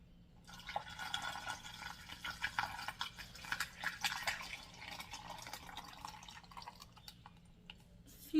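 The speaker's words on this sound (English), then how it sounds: "I'm going to pour the rest of this salty brine in" Salty brine for homemade sauerkraut trickles through a funnel into a container, a faint, uneven pour with small splashes and drips, close by and without talk.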